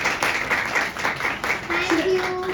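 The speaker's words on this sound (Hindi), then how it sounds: "एक बार जोरदार तालियां" An audience at a drama show launch event claps in a sustained round of applause, fairly loud and close, while a voice speaks faintly through the clapping toward the end.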